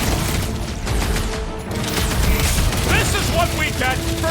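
A blast booms out in the Guardians of the Galaxy video game, a loud burst followed by crackling debris and game sounds, with voices talking over the tail.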